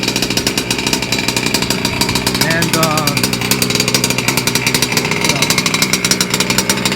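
A small nitro or gas engine runs steadily on an RC motorcycle while a carburetor is tuned, a buzzy, raspy drone that holds close and loud throughout with no pauses.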